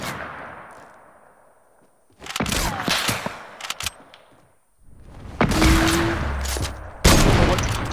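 Bolt-action rifle fire in the video game Fortnite: several sharp, loud shot bursts in an irregular sequence, separated by quieter game ambience.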